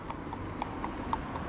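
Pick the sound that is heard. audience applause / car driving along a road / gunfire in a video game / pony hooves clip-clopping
pony hooves clip-clopping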